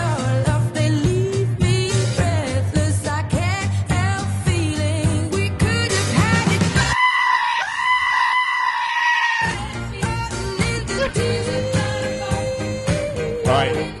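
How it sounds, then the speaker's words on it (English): Screaming goat bleats edited into a pop song cut in loudly over the dense, full-volume music, with one stretch where the backing drops out and only the goat cries and a sustained vocal remain. "People are taking screaming goats and editing them into hit records."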